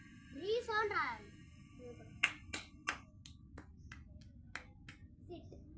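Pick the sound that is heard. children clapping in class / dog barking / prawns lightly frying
children clapping in class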